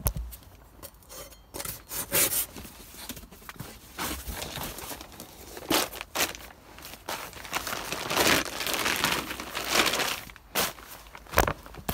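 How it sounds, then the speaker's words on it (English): Cardboard box being cut in half, rough scraping, sawing and rubbing bursts of varying strength, close and irregular, with crinkling handling noises between strokes. "take your other box and cut it in half."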